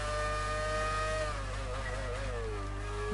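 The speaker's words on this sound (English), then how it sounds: "This car sounds pretty nice, I must admit." A Ferrari Formula 1 car engine in the video game F1 2019 whines at high revs at the Australian Grand Prix, its pitch dipping and climbing as it shifts and slows, steady and close with no talking.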